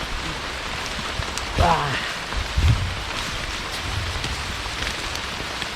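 Steady rain falls through a misty pine forest on a mountain trail descent, a constant wash of drizzle with a brief voice exclamation partway through.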